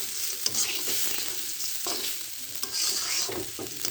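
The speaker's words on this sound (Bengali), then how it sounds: "দেখেন কি সুন্দর করে ঝরঝরে করে ভেজে নিলাম" Home-grown rice frying dry in a pan for a biryani, stirred steadily with a spatula. The sizzle and scrape run continuously and closely, with soft knocks of the utensil and no voices.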